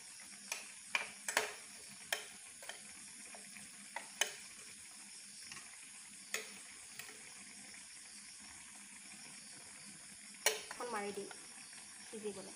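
Rohu fish pieces dropped one by one into a pan for Assamese fish curry, faint sizzling with a series of sharp clinks and taps, then a brief louder burst of frying near the end.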